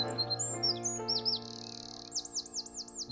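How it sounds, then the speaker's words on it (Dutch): Several bird species sing in a quiet nature area in Limburg, giving a run of high, clear chirps and looping whistled notes repeated in quick succession, close and alone over a soft background. "juist in dit soort gebieden hoor je heel veel geluiden van de verschillende soorten vogels die hier"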